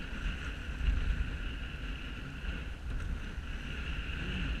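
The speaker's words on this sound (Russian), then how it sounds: "Ветер." Steady wind roars across the open sea while kayak paddling on a windy day, a constant rushing wash with low buffeting rumble and faint water noise, unbroken throughout.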